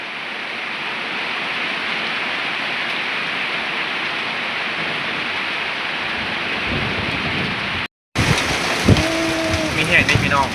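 Heavy rain pours steadily in a rumbling, dense wash with thunder mixed in, then after a brief cut the downpour continues while a person speaks over it.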